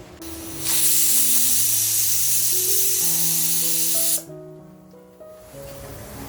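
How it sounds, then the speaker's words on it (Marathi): A pressure cooker on full gas, cooking spicy mutton masala, lets out a loud steady hiss of escaping steam for about three and a half seconds before it cuts off abruptly, leaving quieter background music. "पहिली शिटी आपण फुल गॅसवरती घेणार आहोत"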